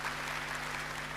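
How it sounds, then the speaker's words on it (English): An audience applauding panelists at an academic conference, a dense, steady roar of many hands clapping at once, loud and continuous with no speech over it. "Let's give a round of applause to our panelists"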